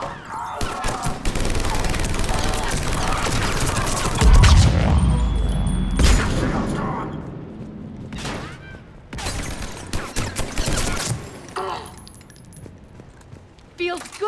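Gunfire erupting in a firefight on Omega in Mass Effect 3, rapid sharp volleys and bursts with heavy impacts, loud and close, mixed with voices and combat noise.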